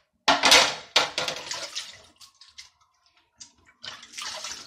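Tap water runs and splashes in uneven bursts while hands are wetted to shape homemade burger patties in a kitchen, loud at first, then trickling more quietly before surging again.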